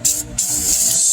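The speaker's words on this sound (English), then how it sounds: "spray." An aerosol can of Easy-Off cleaner sprays onto a car rim of a 2001 GMC Yukon XL in two close hissing bursts, a short one and then a longer sustained one.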